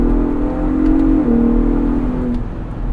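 A 2022 Ford Bronco Raptor engine revs in Baja mode while driving, a steady mid-pitched drone that rises and then dips slightly. It is moderately loud and close, with road rumble underneath and no talking.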